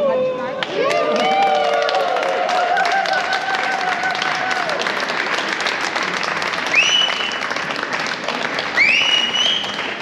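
An outdoor crowd near a church in Heidelberg, Germany applauds in a steady, dense roar of clapping that carries on throughout, with cheering, whistles and voices rising within it.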